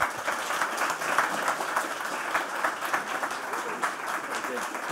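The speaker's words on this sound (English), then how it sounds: "Give them a round of applause, ladies and gentlemen." Steady applause from a crowd, a dense wash of many hands clapping continuously at moderate volume, with some voices mixed in.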